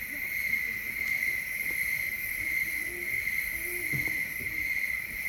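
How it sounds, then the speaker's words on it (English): An owl hooting at night in the open, faint and distant soft hoots rising over a constant high-pitched chorus of crickets. "Do you hear that owl?"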